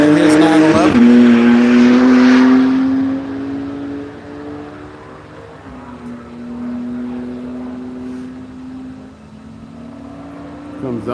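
A Camaro race car of the On the Ledge Racing team roars past on a circuit during a live-streamed track event, a loud engine drone that swells near the start, then fades and lingers as it pulls away with other cars.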